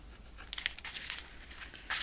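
Paper for scrapbook pockets is cut close by in short, soft bursts of rustling and crisp snipping, quiet and brief, with no one speaking.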